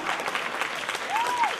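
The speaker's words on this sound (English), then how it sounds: "applause is fine." A live audience at a talk introducing a men's storytelling project claps briefly. The applause is soft and scattered, and a faint whistle-like tone rises near the end.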